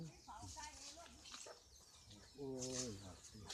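A chicken clucks and calls close by in short bursts, with a softer stretch between and a louder drawn-out cluck near the end.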